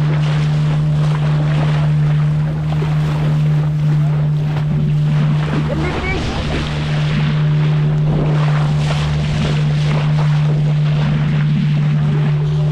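A motor boat cruises at sea off Goa, with a constant low engine drone under rushing water, wave wash and wind buffeting the microphone, steady and loud throughout with no talking.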